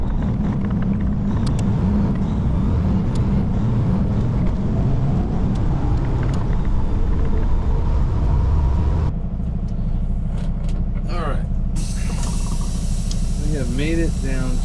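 A heavy haul truck rolls along the road with a loud, steady engine and road drone. Partway through, the sound shifts to a lower, quieter in-cab rumble, with faint squeaks and rattles toward the end.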